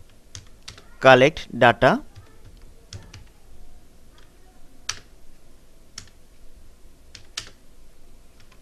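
Keys tapped on a computer keyboard in short scattered clicks, near and moderately loud, with a brief stretch of speech partway through.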